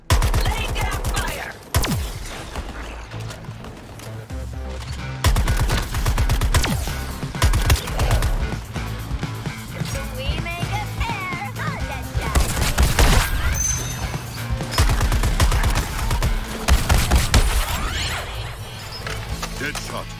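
Dense gunfire from the video game Suicide Squad: Kill The Justice League, with bursts of rapid shots and heavy impacts sustained through the whole stretch amid game music and effects, with voices speaking over it.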